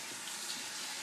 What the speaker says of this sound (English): what I do when I rinse it out, I use warm water or cold water